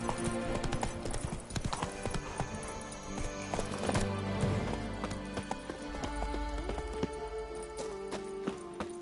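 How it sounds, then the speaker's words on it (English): Horse hooves trot steadily in the Witcher 3 video game, a continuous clip-clop rhythm with occasional snorts, up close and loud over game ambience. "Whoa there, Roach."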